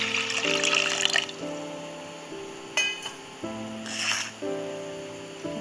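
Water pours into a pressure cooker holding washed dal in short bursts, with gurgling splashes and a few light metallic clinks against the pot, while soft background tones play beneath.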